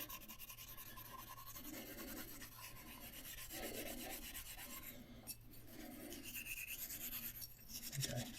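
A fingertip rubs polish into the crevices of a Hoshino Kougyou drum, making a close, soft, rhythmic rasping and scrubbing with repeated short strokes and no talk.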